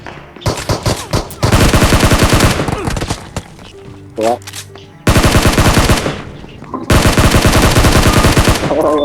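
Bursts of automatic rifle and machine-gun fire from a battle royale video game, loud and close, with rapid sustained volleys separated by brief pauses and a short burst of other game effects between.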